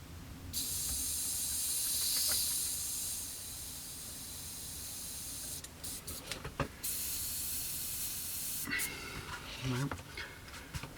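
An airbrush sprays a very thin paint mix onto a Kinetic Harrier GR3 model kit at slightly high air pressure, a steady hissing spray that starts and stops in bursts, with someone talking over it.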